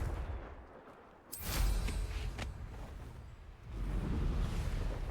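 A Confringo fire spell from Hogwarts Legacy bursts with a loud, sudden whooshing blast, followed by crackling rumble and a second swell of noise a couple of seconds later.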